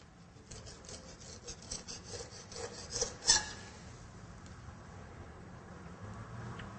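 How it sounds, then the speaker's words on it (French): A knife blade drawn along a fish on a cutting board toward the tail, making a series of soft rasping strokes that rise to a sharper scrape before fading into quiet, with no speech. "Inclinez la lame du couteau vers la planche et coupez jusque"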